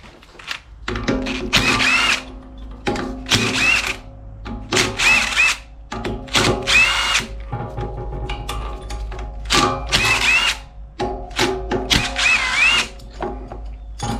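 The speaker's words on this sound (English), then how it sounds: "We're going to start by taking all of these 1/2-inch bolts out." An impact or power tool drives out six 1/2-inch bolts on a Freightliner Cascadia truck air compressor, loud whirring bursts of a few seconds each with ratcheting rattles between them, repeated about seven times close by.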